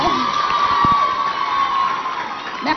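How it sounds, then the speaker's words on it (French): A school audience at a televised provincial competition cheers and shouts enthusiastically for the chaperones, a lively crowd of mostly children's voices with some scattered applause underneath. "On applaudit pour les accompagnants."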